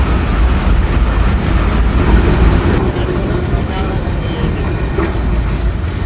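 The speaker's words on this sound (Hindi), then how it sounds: "फ़िलहाल आते जाते ट्रेनों को देख रहे हैं।" Trains rolling past a platform at a busy station in Pakistan, a steady loud rumble of wheels and carriages with crowd murmur throughout.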